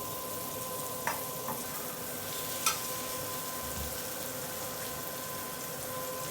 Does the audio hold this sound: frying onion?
yes